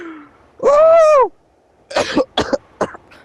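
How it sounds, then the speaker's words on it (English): A person in a Rec Room game voice chat coughs close to the microphone during a ride. One raspy, drawn-out cough is followed by a cluster of three or four short, sharp coughs. "Bro's coughing mid-ride."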